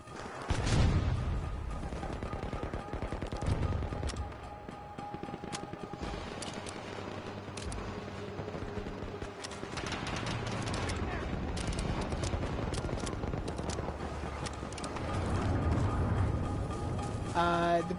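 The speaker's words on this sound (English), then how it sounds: "Alright, let's try the SMG now." SMG gunfire in Battlefield 2042 on PS4 Pro, dense rapid bursts of automatic shots mixed with distant battle noise throughout, with a voice talking over parts of it.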